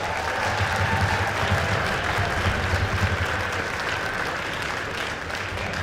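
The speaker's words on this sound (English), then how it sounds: "give them a round of applause for that" An audience claps for a school wind ensemble at a band concert, dense sustained applause filling the hall from start to finish, loud and steady with a slight fade near the end.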